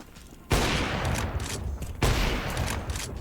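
Gunfire in the video game Counter-Strike 2, two loud bursts of rapid shots close by, each followed by a continuing rattle of fire.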